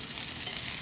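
Beef seasoned with salt and pepper fries in a pan with a dense, even sizzle, a close, steady hiss with no voices.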